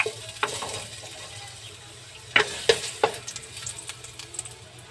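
Ginger sautéing in a pan for beef stew, a soft steady sizzle broken by a few sharp clicks and scrapes of stirring, no voices.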